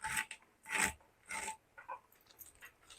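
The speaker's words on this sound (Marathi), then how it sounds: "आवाज बघा काय येतात, ताजी फडफडीत भाजी असतात ना तर असं कर कर कर आवाज येतात." Knife chopping fresh, crisp radish greens on a board in a home kitchen, a few separate rasping, crunchy cuts spaced out and heard close up, with no voice over them.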